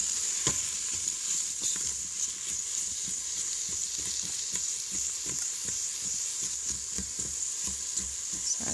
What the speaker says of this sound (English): So here's the sliced onion, and let it saute it until it just becomes translucent.